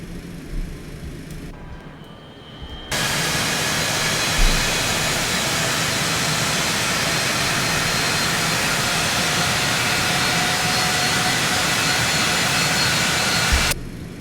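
A Citation X jet engine in the X-Plane flight simulator roars up from a low rumble into a loud, steady, broadband whine that holds for over ten seconds before cutting off abruptly.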